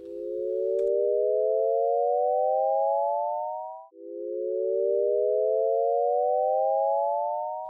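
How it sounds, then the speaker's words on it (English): Synthetic tones for an auditory illusion: stacked chord partials fade in and glide steadily upward by an octave, then a second identical copy starts and glides up the same way, smooth and loud with no voice. "you take this whole sound, chord fading in, glissando, and then out, and you copy it."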